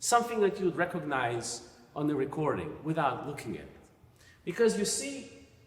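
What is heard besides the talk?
No everyday noise stands out behind the speech.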